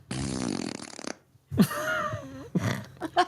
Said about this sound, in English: We were going through the fart sounds before we went on air.